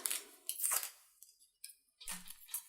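Scissors cutting a second handbag strap in a craft tutorial: a few short, close, quiet snips with brief pauses between them, no talking.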